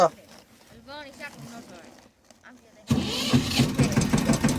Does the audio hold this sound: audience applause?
no